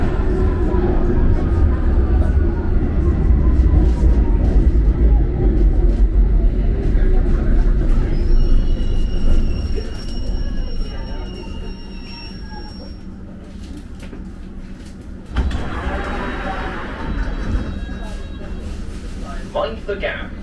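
A London Underground train rumbles loudly through Westminster station, then eases off and quiets, with a recorded "Mind the gap" announcement voice speaking over it.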